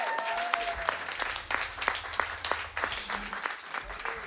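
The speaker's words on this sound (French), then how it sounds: "on peut donner une main d'applaudissement à notre band" A church congregation applauds the worship band, a fairly quiet, even round of clapping from many hands that continues throughout, with a faint low tone beneath.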